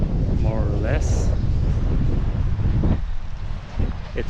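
Strong wind sweeps across a beach campsite on Assateague Island, buffeting the microphone with a loud, rough, rumbling roar, while a voice briefly sounds early on.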